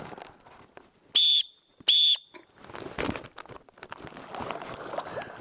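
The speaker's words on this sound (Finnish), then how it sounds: "Tai pillillä. Pilli kuuluu kauas." Two short, shrill whistle blasts, a paddling group signal, come in quick succession, followed by faint rustling and handling noise.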